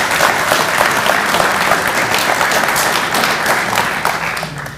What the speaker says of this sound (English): So a round of applause for those two.